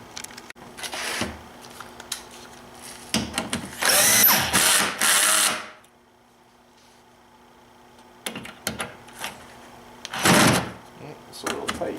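A power tool drives out T30 Torx screws on a BMW six-cylinder engine in short, loud whirring bursts, with someone talking between the runs.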